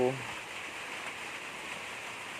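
Rain falling steadily outdoors, a soft continuous hiss of fairly low level that runs without break, with a brief voice fragment at the very start.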